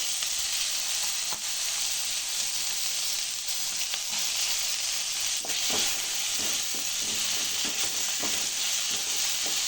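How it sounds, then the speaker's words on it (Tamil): Onions, green chilies and tomato sautéing and being stirred in a pan for ragi semiya, a steady close sizzle with scraping stirs throughout and no voices. "எல்லாத்தையும் சேர்த்து நல்லா வதக்கிடலாம் இதோடு நம்ம தக்காளி ஆட் பண்ணிக்கலாம்"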